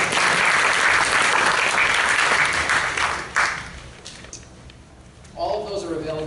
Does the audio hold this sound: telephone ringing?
no